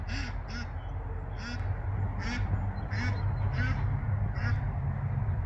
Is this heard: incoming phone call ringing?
no